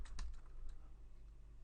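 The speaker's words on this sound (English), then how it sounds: "getting rid of things you were typing" Quiet keyboard typing in a room, a brief burst of a few soft keystrokes with one stronger click early on, then fading to faint low hum; no one speaks.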